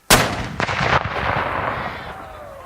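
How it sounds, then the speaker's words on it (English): A reenactment cannon firing at Fort Defiance lets out one loud, sharp boom up close, followed by a broad rumbling roar that echoes and slowly fades over a couple of seconds. "Prepare! You ready, Jimmy? Fire!"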